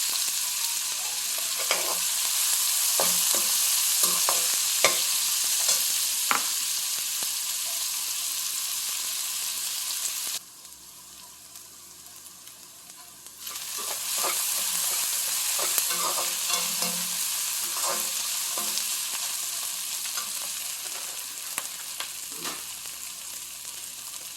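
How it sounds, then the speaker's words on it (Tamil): Onions sautéing in a pan for a chicken curry, a continuous sizzle with frequent spatula taps and stirs, briefly dipping quieter midway before the frying hiss returns. "வெங்காயம் நல்லா வதங்குது."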